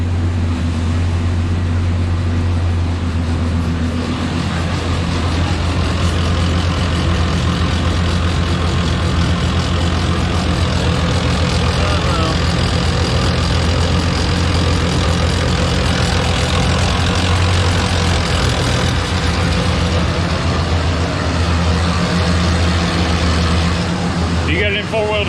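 A 1995 Chevrolet Silverado K1500 pickup engine runs steadily during 4x4 actuator and brake work, a loud, constant low idle drone with a faint whine above it, close by, while people talk over it.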